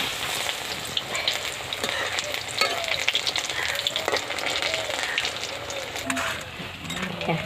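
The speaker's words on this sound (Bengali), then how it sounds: "এবার আমি উল্টিয়ে দিচ্ছি কলার পকোড়াগুলো।" Raw banana pakoras bubble and sizzle in hot oil as they are turned, a close continuous crackle with scattered clicks of the spoon and some speech over it.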